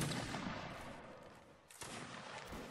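Musket volley from Napoleonic line infantry in a video game, heard as a faint, distant rolling crash that fades, then a second broadband burst of shots follows, all with no voices.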